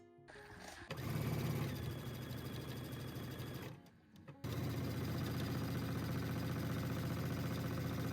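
A sewing machine stitches the front and back pieces of a tiered maxi skirt together, running in a steady, close whirring hum that pauses briefly and then resumes at the same even pace.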